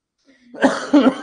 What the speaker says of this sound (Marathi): खोकला यायला मला